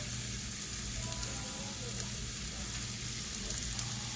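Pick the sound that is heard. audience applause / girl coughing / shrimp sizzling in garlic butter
shrimp sizzling in garlic butter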